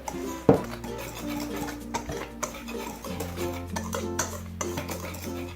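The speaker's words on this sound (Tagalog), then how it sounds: "Haluin muna natin" A spoon stirs rice corn cake batter in a bowl just after baking powder goes in, with repeated close clinks and scrapes against the sides and no talk.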